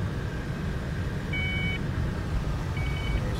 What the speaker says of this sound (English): There's our beeping.